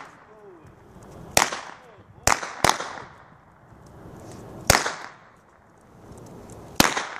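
Five loud, sharp gunshot cracks from Jack V166 gunfire ring out at irregular intervals, each followed by a brief echo tail, with faint background chatter between shots.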